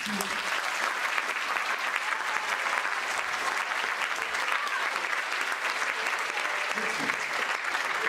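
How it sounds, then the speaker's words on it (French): A concert hall audience gives a strong, sustained round of applause for the Orchestre de l'Opéra de Massy, many hands clapping in a steady dense wash that holds evenly throughout. "Merci d'applaudir très fort. L'orchestre de l'Opéra du Massif."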